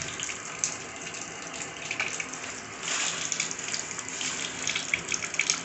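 Tap water runs steadily into a sink, a continuous hissing splash that is fairly faint and close, with slight surges as the flow shifts and no talk over it.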